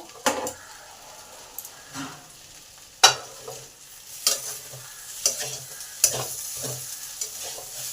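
Spices are fried and stirred in a pan for a lentil dish with bottle-gourd greens. A soft, low sizzle runs under sharp spatula scrapes and clinks that come every second or so, with no one talking.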